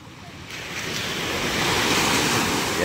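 Ocean waves surging and washing steadily at a fish port in Tanza, Cavite, a broad continuous roar that swells gradually louder, with some wind noise on the microphone.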